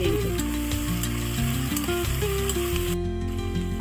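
Loud, dense sizzle of onions frying in a pan with green chillies, coriander, mint and curry leaves, crackling steadily with faint stirring scrapes throughout.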